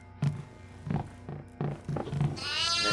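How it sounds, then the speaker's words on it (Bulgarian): A sheep in a video game bleats several times in short, evenly spaced calls at close range, with a brief rushing sound near the end. "Овца."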